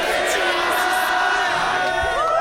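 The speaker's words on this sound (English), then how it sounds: "And the crowd here, you see." A dense crowd at the Comic Fiesta 2025 convention in Malaysia fills the space with a loud, steady roar of overlapping voices and a few shouts rising above it.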